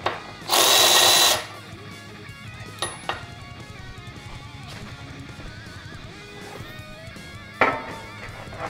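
An 18V magnetic drill opens with a loud, close, roughly one-second burst of boring into 5 cm steel plate, followed by quieter metallic clinks and handling noises and a second short burst near the end.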